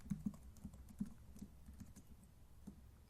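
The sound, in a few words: typing a password on a computer keyboard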